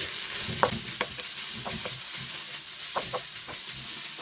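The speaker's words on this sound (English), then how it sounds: "Add capsicum, 1 capsicum cut into long strips. Fry for a minute." Long strips of capsicum frying in a kadai make a close, steady sizzle with quick scraping stirs and a few crisp pops over a few seconds.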